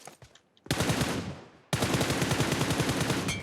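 Rapid gunfire in the PUBG Mobile battle royale game, a short burst followed by a long sustained automatic volley of loud, rhythmic shots at close range, with no talk.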